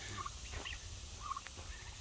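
Turkeys in a backyard enclosure with meat birds, gobbling twice in quick warbling bursts, fairly faint and at middle distance over a low steady background hum.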